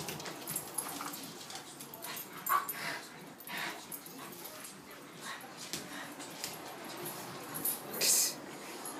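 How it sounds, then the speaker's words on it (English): Two dogs play together, one chewing the other's muzzle, giving faint close whimpers, soft yips and mouthing noises at irregular intervals over a quiet room background. "she's got her whole jaw around Elena's muzzle"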